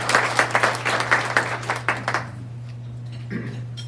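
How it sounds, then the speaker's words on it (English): A small group at a club meeting claps for guests, a loud run of distinct, fairly quick hand claps for about two seconds that then tapers into quiet room tone over a steady low electrical hum, with brief faint murmuring near the end. "Let's give them a round of applause."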